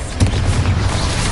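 A booming Confringo spell explosion from Hogwarts Legacy erupts in a short, heavy, low rumbling burst, loud and close, lasting about a second.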